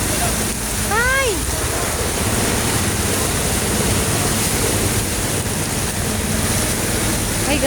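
Floodwater rushes along a residential street after a short downpour, a steady broadband roar filling the whole clip with no pauses, while faint talk and a brief whistling tone sit beneath the water noise.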